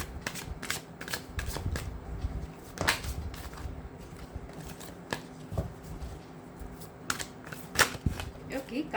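Tarot cards are shuffled by hand in quick, repeated riffling bursts, soft and close, with short pauses between handfuls and a quiet room behind.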